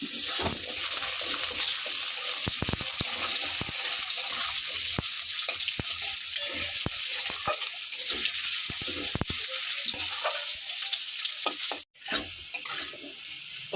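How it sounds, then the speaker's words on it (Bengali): Potato pieces sizzle in hot oil and are stirred now and then, the frying steady and moderately quiet, with a few sharp clicks of the spoon against the pan and a brief dip near the end. "আলুটা একটু নেড়ে নিয়েছি তেলে দেখুন"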